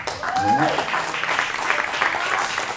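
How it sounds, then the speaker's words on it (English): An audience applauds at a jazz concert featuring a trumpeter, steady clapping from the crowd with someone speaking over it at the start. "So this applause that's going on here is very nice for a polo match, right?"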